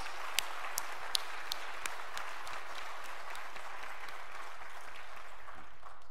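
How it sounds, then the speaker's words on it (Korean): A church congregation applauding to congratulate its members at a pastor's retirement service: sustained, dense clapping from a crowd, even and steady throughout. "우리 한양교회 성도들을 위해서 우리 모두 축하 박수 좀 보내십시오"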